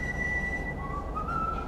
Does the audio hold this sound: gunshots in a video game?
no